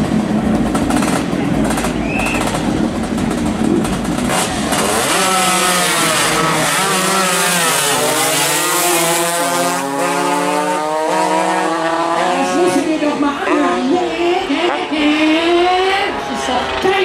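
Racing scooters warm up on a track at the Glemseck 101 roller race, their engines buzzing and revving in rising and falling sweeps as several pass close, loud and continuous throughout.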